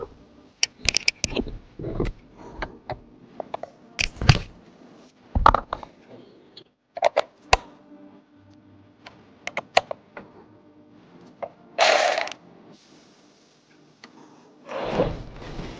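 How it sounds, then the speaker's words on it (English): A ratchet and loose hardware click and clatter at close range while bolts come off a Toyota Tacoma front seat, in irregular bursts of sharp metallic ticks separated by short pauses. "we will unbolt these two bolts here."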